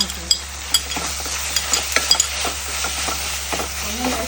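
Crushed ginger and garlic, with curry leaves and green chillies, fry in a hot pan with a steady sizzle, broken by a few sharp scrapes and clicks of stirring, close and with no voices.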